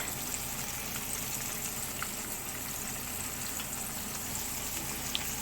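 Pork chop browning in a frying pan for smothered pork chops, a steady soft sizzle with faint crackles running evenly throughout, close by and moderately quiet, with no talking.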